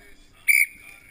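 A referee's whistle in a snow floorball match gives one short, sharp, shrill blast of about a fifth of a second, clearly above quiet background noise.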